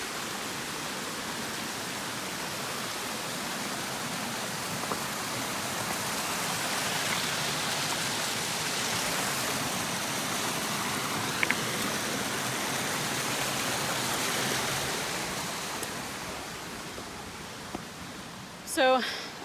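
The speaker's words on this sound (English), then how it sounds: "Check out that waterfall. Spring runoff." Spring-runoff waterfall on a Mount Olympus trail in the Wasatch Range, a broad continuous rushing roar that swells gently and then eases, with a brief rustle or movement near the end.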